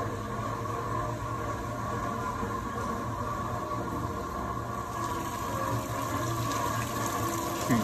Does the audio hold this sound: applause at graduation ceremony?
no